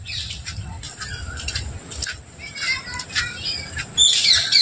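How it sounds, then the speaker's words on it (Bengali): Bats squawk and chatter from a roosting tree at Alipore Zoo in Kolkata, with high, shrill calls and wing flutters close by, rising to a busier burst of squeaks at the end. "বাদুর বাস করে এই গাছটাতে"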